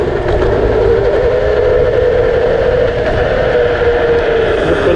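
A Numo GTS electric scooter pulls away from a red light, giving a loud, steady drone with a rising whine that holds for several seconds, dominated by wind and road rumble.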